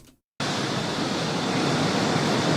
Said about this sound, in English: That's the water going.